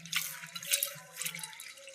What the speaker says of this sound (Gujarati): તો પાણી લીધું છે મેં અને હરખીથી આપણે ધોઈ નાખશું।